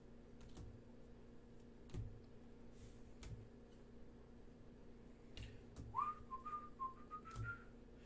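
A person softly whistling a short tune indoors, with a brief melodic phrase among light ticking and tapping sounds, faint and close.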